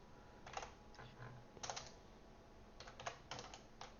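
Rapid bursts of keystrokes on a computer keyboard, close and clear, arriving in short irregular clusters separated by brief pauses, with no voices.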